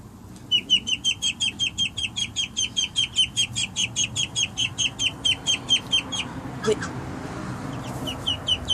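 A rooster kept near ducks gives a long run of rapid, evenly spaced clucking calls, close and fairly loud, which stop and then give way to a few softer sounds.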